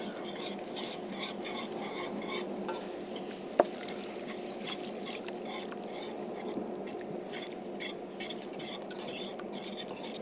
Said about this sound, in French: Je passe sur le fouet.